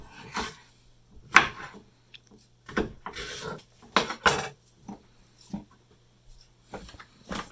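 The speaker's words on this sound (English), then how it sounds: "we're going to put our blade back in, throw the red pepper in, do the other half" A blade is fitted back into a food processor and chopped red pepper is dropped in, giving a series of close clacks, plastic knocks and soft thumps spaced irregularly in a quiet kitchen.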